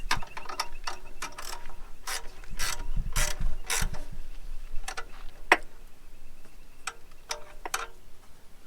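Replacing a lost wing nut on a vehicle's battery box with a Nylox nut, heard as a close run of quick metallic ratcheting clicks in short irregular bursts with brief pauses between them.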